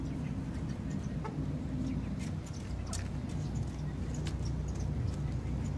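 Pet domestic chickens kept in the UAE cluck softly in a few scattered notes, faint against a constant wash of background noise.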